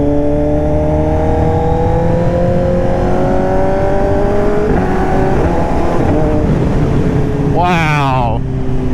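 A 2024 Kawasaki ZX10R fitted with an SC Project exhaust holds a loud, steady rev close by, its pitch climbing and shifting before a sharp rising blip near the end.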